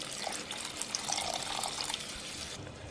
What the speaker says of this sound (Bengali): এইবার পরিমাণ মতো জল দিয়ে দিচ্ছি।